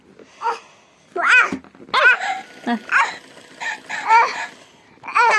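A voice lets out a series of short, yelping bark-like cries, imitating a yellow dog, in bursts with brief pauses between them.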